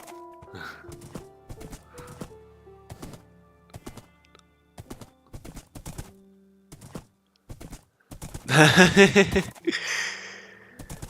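A horse's hooves clip-clop in a steady, spaced rhythm in Minecraft, then the horse gives a loud whinny followed by a snort.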